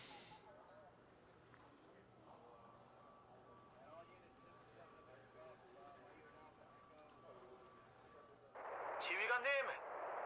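An anti-tank gun fires in a video game, a sudden harsh blast with a hissing roar near the end, after a stretch of quiet background ambience under faint talk.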